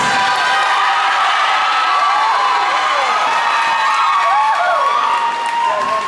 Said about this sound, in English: Come on, cheer for your favorites